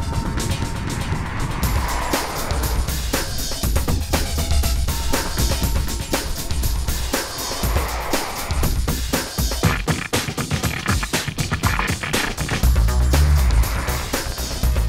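A W8-engined car with 275 brake horsepower on a test drive, its engine and road noise a loud, continuous drone throughout, with no voices.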